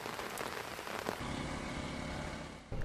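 Continuous heavy rain pours down in eastern Sri Lanka, a dense hiss of drops striking surfaces that stays steady throughout, with a few louder splashes and no voices.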